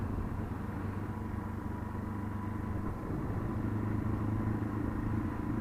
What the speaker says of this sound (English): I love having a single cylinder 4-stroke because that engine braking so helpful